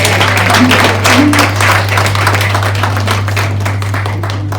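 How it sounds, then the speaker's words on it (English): Audience applauding conference speakers at a National Handloom Day event, a steady, dense wash of clapping throughout over a constant low electrical hum. "please join me to giving all our speakers a round of applause for their contribution"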